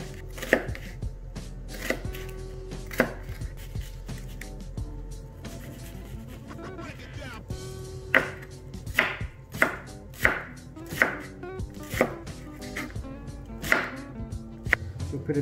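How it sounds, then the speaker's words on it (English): Knife chopping onion halves thin on a board, a run of sharp close taps, sparse and irregular at first, then a quicker steady rhythm in the second half, with no talk over it. "And we're gonna chop them pretty thin"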